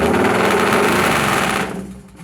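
Loud, buzzing BMW R18 motorcycle exhaust revving close by, then abruptly dropping off to a quieter idle near the end.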